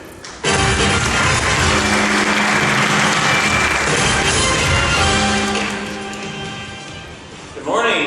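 An audience at a tech conference keynote breaks into loud, sustained applause that swells quickly, holds for several seconds, then fades near the end.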